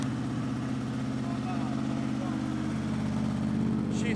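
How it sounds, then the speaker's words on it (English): Cold start of a Honda VFR800 V4 motorcycle with a gutted exhaust after sitting outside in snow and sub-zero temperatures: a steady, loud low rumble that runs without a break throughout. "She starts right away, and you can hear the lovely rumble from the V4 engine and the gutted exhaust."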